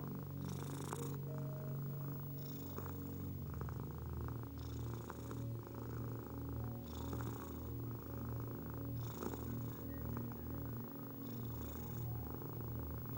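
A domestic cat purring steadily at close range, with rhythmic rising and falling breaths in a continuous low rumble and no voices.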